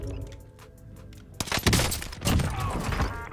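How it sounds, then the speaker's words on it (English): Gunshots in the video game Call of Duty: Vanguard, a quick cluster of three or four loud close shots followed by a noisy rumble of game action. "that was like 3 or 4 shots"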